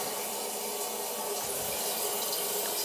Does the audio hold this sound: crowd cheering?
no